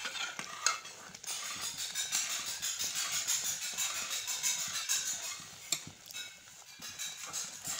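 Egg halwa cooking in ghee in a pot, stirred steadily with a spoon that scrapes and clinks against the metal over a continuous soft sizzle, close and fairly loud.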